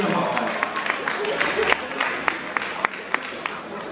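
Spectators in an arena applaud the winning driver of a goat-drawn wagon at a goat wagon presentation in Switzerland, scattered claps rising over a crowd murmur with a few sharp, distinct hand strikes.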